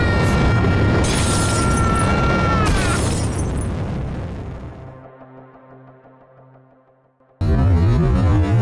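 A staged rocket blast-off in a puppet stunt show erupts as a loud roaring burst laced with whistling tones. The rumble fades away over several seconds, then another loud blast hits abruptly.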